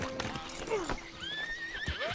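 A horse in the Red Dead Redemption 2 video game whinnies with a rising, wavering neigh, close and clear, alongside hoof clip-clops and a faint voice in the background.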